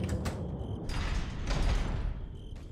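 A locked door in Resident Evil 4 creaks and clunks open with mechanical latch sounds, a few distinct creaking bursts, moderately loud and without talk.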